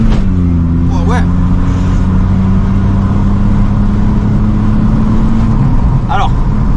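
Car accelerating on a test drive from a showroom, a loud, steady engine drone inside the cabin with people talking over it.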